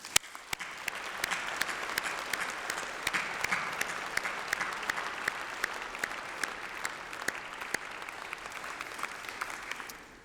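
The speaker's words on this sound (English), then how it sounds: "Please join me in giving them a massive round of applause." At a university graduation ceremony, a large audience gives long, steady applause lasting around ten seconds, an even wash of many hands clapping at moderate, somewhat distant volume with scattered louder claps.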